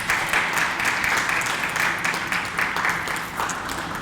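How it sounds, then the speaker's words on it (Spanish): Applause from a church congregation at a Sunday service, honoring a girl's fifteenth birthday, a steady wash of clapping with soft rhythmic pulses running throughout, moderately loud and with no voices over it. "denle un aplauso a Aria por sus 15 años"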